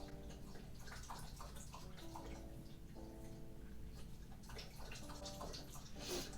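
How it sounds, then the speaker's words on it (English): A dog laps and drinks water, a soft continuous splashy slurping close by under a steady room hum, with no talk. "she started drinking water, making a lot of noise"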